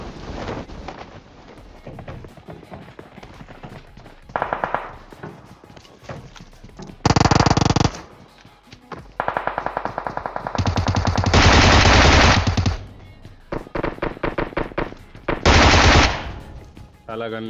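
Video-game machine gun fire in several loud, rapid bursts of varying length separated by short pauses, with quieter game ambience and footsteps between them.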